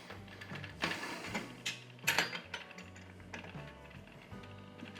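A tap wrench tightens a tap on a KOMOS kegerator, giving a string of close metallic clicks and ratcheting clunks with a few sharper knocks and brief gaps over about five seconds, and no one talks.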